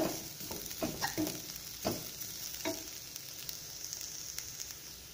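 Grated carrots for carrot laddu stirred and fried in a pan, a soft sizzle running throughout with several sharp scraping strokes of the spoon, close and fairly loud, no talk.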